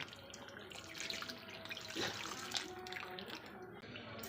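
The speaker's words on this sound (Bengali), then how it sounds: "আর এখন দিচ্ছি এই যে বাদাম জল" Almond water pours into chicken cooking over a low gas flame in oil, a steady liquid trickle and splash running for several seconds at moderate level with no talk.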